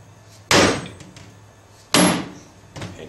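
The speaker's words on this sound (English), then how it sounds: "use a small heavy duty hammer, not a carpenter hammer like a mechanic's hammer or a small sledgehammer, just to drive this down" Small heavy hammer strikes a tool to drive the seal retainer out of the rear section of a 1996–2002 Dodge diesel two-section vacuum pump: two loud, sharp metallic blows about a second and a half apart, then a lighter tap, no talk.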